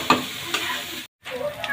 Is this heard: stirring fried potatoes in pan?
yes